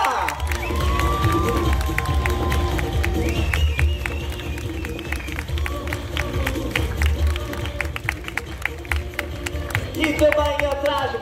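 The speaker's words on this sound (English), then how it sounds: "Big hand applause to La Fufa." A crowd at an African drum and dance show cheers and applauds, clapping and shouts blending into a dense, steady roar with drums and music underneath.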